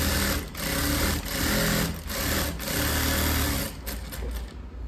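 Sewing machine stitching the lining of a blouse, a close, steady mechanical whir with brief pauses and restarts as the fabric is guided.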